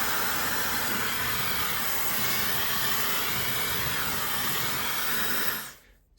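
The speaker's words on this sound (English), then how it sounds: "I'm gonna dry it a little bit without nozzle." A warmmama ionic high-speed brushless hair dryer, 1500W, drying freshly washed hair without its nozzle: a loud, steady, close rushing whoosh of air that cuts off abruptly near the end.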